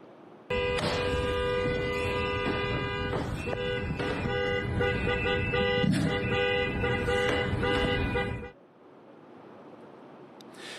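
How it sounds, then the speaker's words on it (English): A parked SUV's horn blares in one long, loud, sustained honk lasting about eight seconds on a street, then cuts off abruptly, leaving quiet outdoor ambience. "Video appears to show Renee Good's SUV parked in the street, honking the horn"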